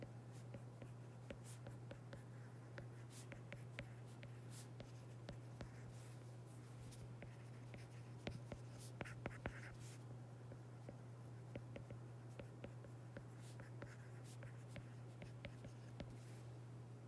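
Pen or pencil writing geometry notes by hand, a steady faint scratching of strokes across paper that runs throughout with no talk, over a constant low electrical hum.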